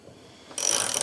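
A ratchet tightens a power steering flow control fitting on an LS swap, a short burst of quick, close metallic clicking that starts halfway through after a quiet lead-in.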